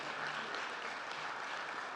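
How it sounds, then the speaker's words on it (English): Audience applause at a men's empowerment summit, a dense steady wash of clapping from a large crowd filling the room, sustained at an even level for the whole stretch. "So give them a great big round of applause."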